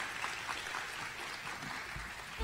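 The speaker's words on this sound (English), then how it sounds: "Let's give them one last round of applause." A hall audience at a Delaware FFA state convention claps steadily, a dense even wash of applause holding for a couple of seconds, heard at a distance without talk.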